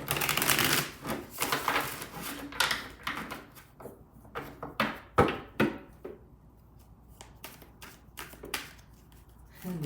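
Tarot cards shuffled by hand during a reading, a close run of crisp riffling bursts and sharp taps that starts dense and thins into separate slaps and flicks, with no talk over it.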